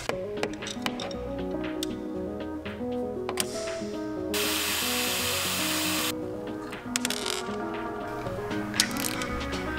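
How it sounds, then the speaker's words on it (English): Power tool cutting bolts down to length on a Mazda RX-7 rotary engine during oil-system work, with a steady broadband roar of about two seconds standing out from intermittent metallic clinks and handling noise. "So I'm going to go ahead and cut these down to length so it can have some nice flanged hardware instead of this cheap stuff."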